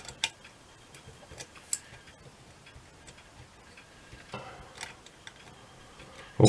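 An old Kaiser mechanical clock ticks during reassembly with sparse, uneven light ticks and small metallic clicks over a quiet background, a few sharper knocks among them and no talking.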